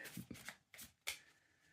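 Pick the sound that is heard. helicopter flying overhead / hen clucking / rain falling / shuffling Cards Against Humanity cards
shuffling Cards Against Humanity cards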